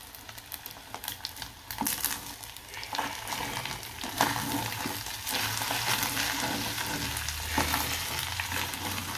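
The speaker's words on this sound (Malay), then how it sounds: "Gorenglah sehingga betul-betul masak lah" Curry-flavoured fried rice sizzling and frying in a pan, with continuous hiss and scraping as it is stirred, close and fairly loud.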